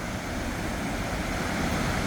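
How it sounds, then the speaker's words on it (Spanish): Water cascades at Saltos Los Mellizos near Pucón, a continuous broadband roar that stays loud and steady, with some wind noise on the microphone. "Mira cómo cae el agua ahí"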